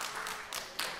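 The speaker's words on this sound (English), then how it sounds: "So give yourselves a round of applause." An audience applauds at the close of a Disney animation drawing show at Conservation Station, with a brief burst of steady clapping that swells near the end.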